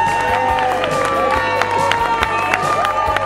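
An audience at a 2009 awards ceremony claps and cheers in a loud, continuous burst of applause, with a musical tone sounding underneath.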